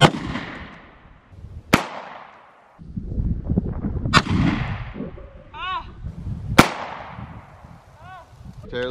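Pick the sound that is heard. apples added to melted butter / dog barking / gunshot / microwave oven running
gunshot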